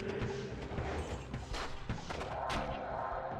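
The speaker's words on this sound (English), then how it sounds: "Some of those body explosions are pretty brutal." Body explosions in the video game Diablo II v1.07, playing a Druid, come as heavy booming thuds and crashes layered over dense, continuous game noise at moderate loudness.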